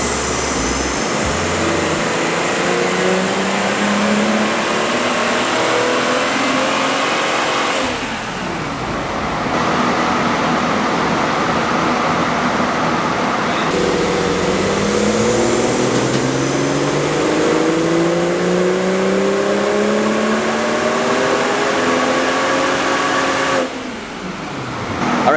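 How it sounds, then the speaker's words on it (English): A BMW 340 with a boot mode stage 1 tune roars on a dyno, its engine pitch climbing through repeated loud revving sweeps, dropping off briefly between pulls, and rising again close up. "we're gonna do 3 dyno runs and see how much power boot mode stage 1 adds to a 340"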